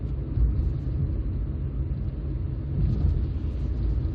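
A 2006 Hyundai Getz 1.4 GSi rolls over bumps and lumps on a Bournemouth road, heard from inside as a steady low road rumble with soft, muffled thumps and no talk.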